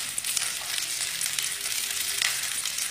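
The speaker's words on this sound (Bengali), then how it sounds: "একটু নেড়ে নিচ্ছি।" Bottle gourd leaf gravy, seasoned with sugar and salt, fries in a pan and is stirred, giving a steady, close hiss of sizzling oil with faint scraping throughout and no talk.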